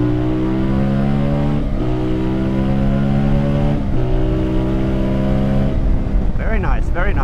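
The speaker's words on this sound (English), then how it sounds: "let's hear the exhaust when you accelerate to full speed." A CFMoto 450MT motorcycle engine revs up through the gears at full acceleration, its rising exhaust note dropping briefly at each shift, with wind rush and a voice near the end.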